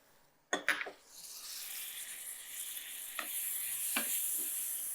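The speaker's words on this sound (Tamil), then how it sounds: "இந்த தேங்காய் போட்டு நல்லா பிரட்டுங்க." A spatula stirs ground coconut paste in a hot frying pan for mango pachadi, giving a few sharp scraping clatters, then a steady sizzle that swells with two more brief stirring scrapes.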